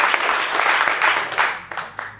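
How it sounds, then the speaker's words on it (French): Audience at a climate-youth seminar bursts into lively applause, a close, dense crackle of clapping hands that thins out toward the end with a few last isolated claps. "on peut vraiment vous applaudir"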